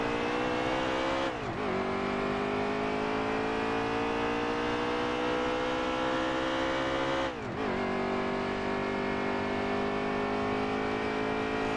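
Lowe's Chevy Camaro race car engine in NASCAR Heat 3, a loud steady high-revving drone that holds its pitch, with two brief gear-shift dips before the engine climbs again, no talk.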